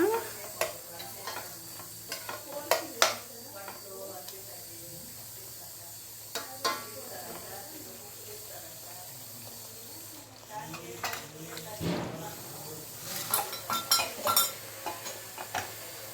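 Tangy okra gojju curry is stirred in a pan. The spoon scrapes and clinks in scattered bursts over a steady low sizzle, with quiet stretches between and a busier flurry of stirring near the end.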